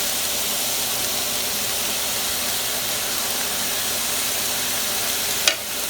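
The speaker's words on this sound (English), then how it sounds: "You can hear it sizzling." Ground beef and vegetables for a shepherd's pie sizzle loudly and steadily in a pan, a dense continuous hiss with one short clack near the end.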